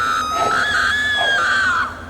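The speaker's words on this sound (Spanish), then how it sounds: "comenzaron los gritos" Shrill, sustained human screams from people under attack in a village, a loud rising-and-falling wail lasting about two seconds that cuts off abruptly, with no talking.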